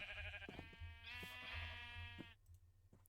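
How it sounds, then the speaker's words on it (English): Sheep bleating loudly and close by in a long, wavering cry that runs almost without a break, then cuts off, leaving faint background sound. "the sheep will be extremely annoying today."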